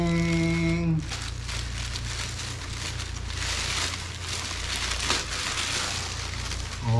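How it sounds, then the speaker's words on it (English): Plastic bag packaging around a GoPro Hero 10 crinkles and crackles as it is unwrapped close to the microphone. The rustling runs continuously for several seconds after a short spoken phrase at the start. "Okay, another plastic bag, packaging."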